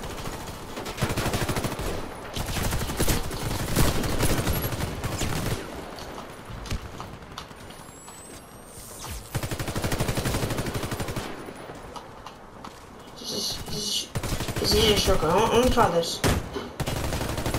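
Shotgun gunfire in the Warface video game, loud repeated blasts in uneven clusters across the whole stretch, heard over game effects while a player talks now and then.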